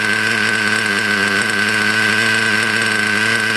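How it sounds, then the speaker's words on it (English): A small nitro model engine idles steadily after being warmed up, a loud, close, even buzzing drone with a constant high whine and no talk. "The idle kind of calms down, if you notice that."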